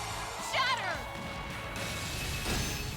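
Shatter attack in the video game Trails Into Reverie, a sharp crash with a ringing, glassy sweep followed by a second swishing impact, set against busy game music and a voice.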